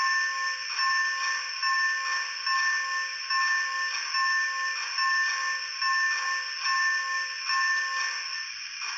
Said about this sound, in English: let's go ahead and hear the bell